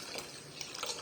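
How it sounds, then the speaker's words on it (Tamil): Coconut water and ground batter for traditional appam are poured into a bowl in the kitchen, giving a brief, steady liquid splash and trickle close by, with no talking. "இந்த இளநீ தண்ணியும் மிக்சி கலவை அப்படியே சேர்த்து ஊற்றிடலாங்க."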